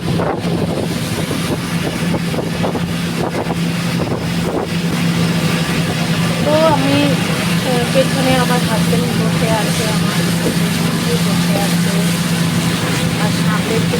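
A speedboat races across the water at Maithon Dam in Dhanbad, Jharkhand, with a loud, constant engine roar and heavy wind buffeting the microphone. A voice speaks briefly over the noise partway through.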